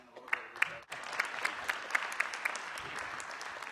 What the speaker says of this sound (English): Can we clap for Brian a little bit?